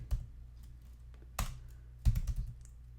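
Computer keyboard keys tapped in short bursts, a few isolated close clicks followed by a quick cluster of keystrokes over a low steady hum.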